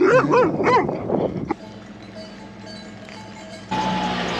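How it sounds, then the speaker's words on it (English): A dog in the Matese region of southern Italy barks several times in quick succession, loud and fairly close, then falls silent, leaving quiet outdoor ambience. "There is a dog."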